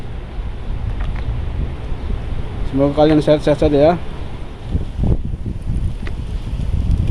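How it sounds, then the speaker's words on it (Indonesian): A strong wind carrying fine dust blows on a street in Jeddah, rumbling as steady, gusty buffeting against the microphone, while someone speaks briefly in the middle. "anginnya pagi ini anginnya kencang banget"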